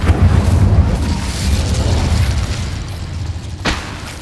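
A low, rumbling fiery blast from the Incendio spell in Hogwarts Legacy, loud at first and gradually fading, with a sharp crack near the end.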